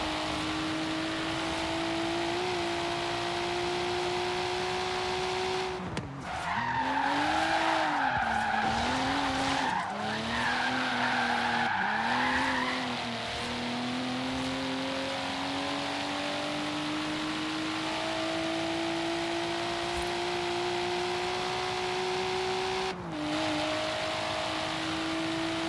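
A car in the video game Forza Horizon 3 drives at speed with a steady engine drone that shifts pitch, broken by loud tire squeals as it skids through corners, no talking.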